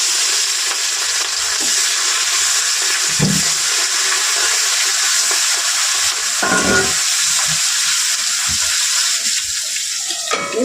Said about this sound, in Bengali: মাছগুলো কড়াই দিয়ে দেবো।